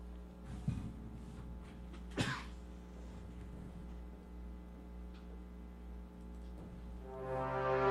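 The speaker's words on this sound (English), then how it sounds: "Just trying to clear my throat there a bit." Two short throat clearings close to the microphone in a radio studio during a live broadcast, separated by a pause, over a low steady electrical hum.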